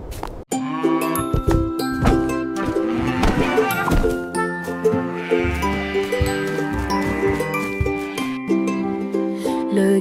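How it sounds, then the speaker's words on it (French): Sheep bleat repeatedly over a bright, jingling nursery-rhyme musical backing, the cries rising and overlapping in a steady rhythm. "Toutes les vaches meuglaient et les moutons disaient oui."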